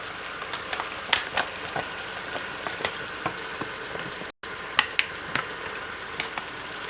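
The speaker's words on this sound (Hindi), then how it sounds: "अब इस गोश्त को इसमें हम भून लेंगे अच्छी तरह से" Oil sizzles and crackles steadily in a hot pan as meat is fried, with scattered pops and the occasional scrape of stirring, no voices.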